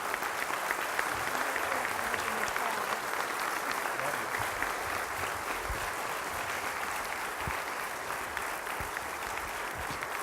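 An audience gives a steady, sustained round of applause to welcome a guest at a morning event, dense clapping filling the room evenly from start to finish.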